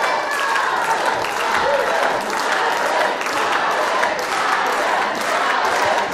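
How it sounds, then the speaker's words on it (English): A wrestling crowd at a PEW pro wrestling show cheers and applauds after a match, a dense, steady roar of clapping and shouting that holds at full loudness throughout with no pauses. "the crowd loving what they have seen from Adam Bolt"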